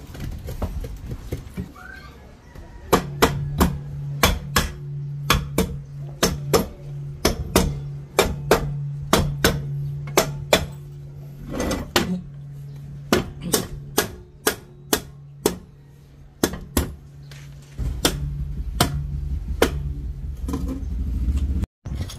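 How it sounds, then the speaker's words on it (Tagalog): Repeated metallic clinks and taps of screws being fitted and tightened with a socket on a Honda Click engine, steady close ticks over a low continuous hum. "Dito ikakabit na yung mga tornilyo."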